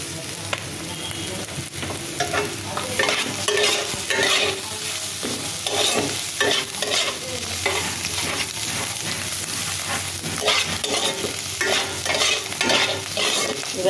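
Chopped onion and potatoes fry in a pan, with a constant sizzle and frequent clattering stirs that scrape and tap the pan, close up with no talk.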